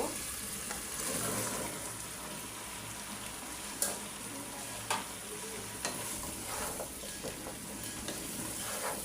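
Bottle gourd frying with prawns in a pan, a steady close sizzle with scraping stir strokes and a few sharp clinks of a utensil against the pan.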